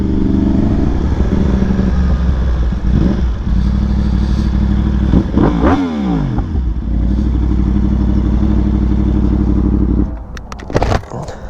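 A Yamaha R1M sport motorcycle engine is heard loud and close, idling steadily and then revving up and down once in a sweeping rise and fall, followed by some clatter near the end.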